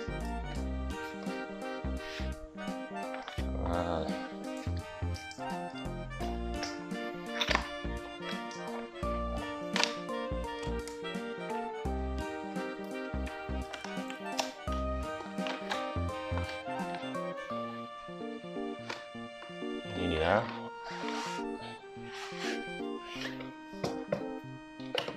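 Packaging for an ASUS ROG Scabbard XL gaming mouse pad is opened, with continuous rustling, scraping and tearing of cardboard and plastic, close and busy, over a background music bed.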